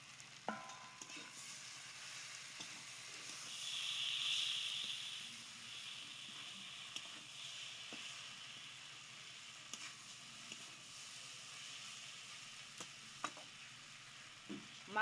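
Small fried fish stirred into a pan of cooked cabbage stalks, giving a soft, steady sizzle with a brief louder hiss and scattered scraping clicks from the spoon.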